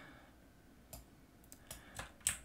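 A few sharp computer mouse clicks, quiet and close, spaced irregularly against a near-silent room, clicking a button to zoom in on screen.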